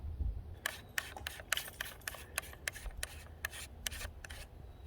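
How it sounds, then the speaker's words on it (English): A metal step-down ring threaded by hand onto the 62mm lens of a Sony AX700 camcorder, giving a quick run of short, crisp scraping clicks at close range with no talking. "Then I put on the threaded step down ring."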